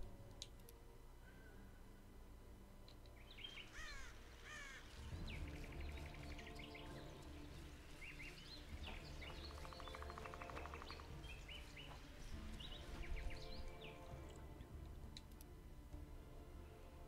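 Birds calling in The Witcher 2 game, a run of bright chirping calls over a steady ambient game background with ticking, no talk, fairly faint and continuous.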